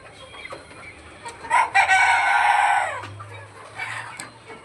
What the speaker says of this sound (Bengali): আর করকনাথ মোরগ মুরগি সব ও সাইডে, ওই যে আছে ওদিকে।